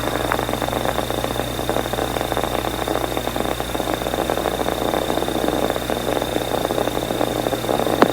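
Space Shuttle Atlantis main engines during the STS-61B launch, a steady broadband roar with a low constant hum, continuous and unbroken throughout with no voices.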